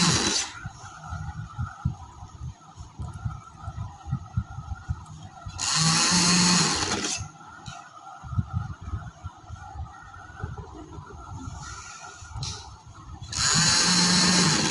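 A sewing machine stitches fabric frills for girls' frocks. Its motor runs in three loud, steady bursts, at the start, in the middle and at the end, with a quieter mechanical hum between them.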